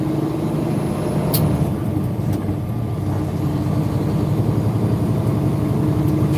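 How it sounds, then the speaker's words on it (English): A truck running a engine brake, likely with no straight pipes, gives a steady low rumbling drone that holds loud and unbroken, with a brief sharp hiss partway through. "I gave you a couple of engine brakes."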